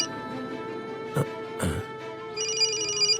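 A telephone rings with a repeating electronic tone that comes in near the end, following a couple of brief knocks over a steady low hum.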